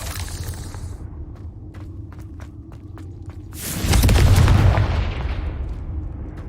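The Confringo blasting spell goes off in the Hogwarts Legacy video game as a single loud, close explosion that swells into a roaring burst and rumbles away, preceded by a sequence of light, sharp ticks.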